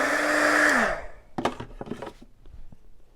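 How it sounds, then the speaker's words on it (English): Heat gun drying freshly painted wooden shiplap, a loud steady blowing whine for about a second that cuts off, followed by scattered knocks and handling thumps on wood. "This is just my heat gun."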